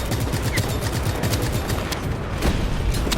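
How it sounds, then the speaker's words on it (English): Anti-aircraft gunfire in Just Cause 3: dense, continuous rattling volleys with booming blasts mixed in, loud and unbroken throughout. "Drop them like flies. Anti-aircraft fire."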